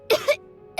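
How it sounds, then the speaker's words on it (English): A child coughs twice in quick succession, near and clear, in a Genshin Impact game cutscene. "He kept coughing all the time, just like me"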